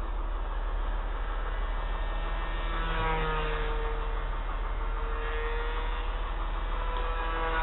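A small canard-configured RC plane flies at full throttle, giving a steady, droning motor whine that holds level in pitch and loudness, heard from a distance with no talking.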